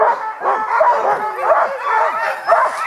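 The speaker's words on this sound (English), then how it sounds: "Dogs are, as you can hear, very excited about getting going again." Excited sled dogs bark and yip in repeated bursts before a dog sledding run on frozen Lake Laberge in the Yukon, loud and close, with whining between barks.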